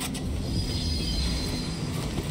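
A train grinds and rumbles continuously while it stops in the Void Train game, with a steady mechanical hum and faint rail squeal throughout.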